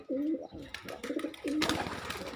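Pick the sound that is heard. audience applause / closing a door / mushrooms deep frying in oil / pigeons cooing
pigeons cooing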